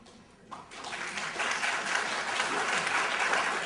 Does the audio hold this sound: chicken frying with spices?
no